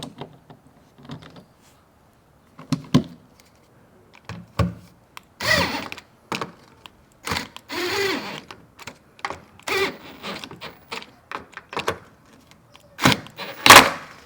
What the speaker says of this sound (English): put my 10mm socket back on